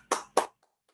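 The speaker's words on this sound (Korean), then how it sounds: "우리 서로에게 격려의 박수를 좀 드리도록 하겠습니다" Two short bursts of clapping come from a youth missionary worship congregation, moderately loud, then fade to a couple of faint trailing claps before silence.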